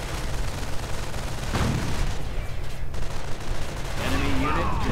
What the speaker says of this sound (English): the Bergtig is just sort of firing away with its tiny little machine gun